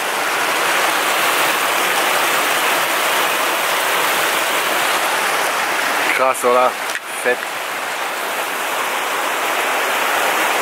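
A mountain brook in the Erzgebirge rushes in a steady, dense wash of flowing water throughout, with someone briefly speaking close by partway through.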